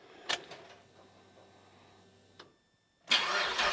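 V8 engine swapped into a Celica GT-S cranking briefly with a couple of sharp pops, dropping to near silence, then catching and firing into a loud, rough run at the end; no talking.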